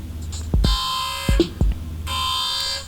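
Radiation alarm in a research lab: a loud electronic buzzer tone sounds in bursts, interrupted by sharp low thumps, then resumes steadily near the end.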